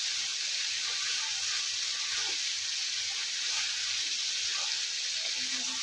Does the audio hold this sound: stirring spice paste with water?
yes